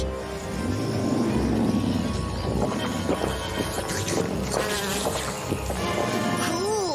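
A mosquito whines and buzzes persistently, rising and falling in pitch over a busy layer of background sound.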